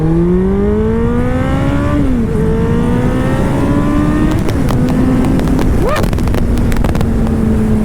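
A 2009 Kawasaki Ninja ZX-14 engine pulls hard at half throttle, its pitch rising steadily then dipping and climbing again, loud and close with heavy wind rush buffeting the microphone.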